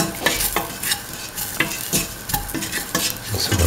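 Salt and spices are stirred into a kidney bean and potato stew, with a spoon scraping and clinking steadily in the pot over a constant sizzle, close and fairly loud.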